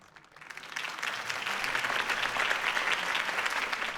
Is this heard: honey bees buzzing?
no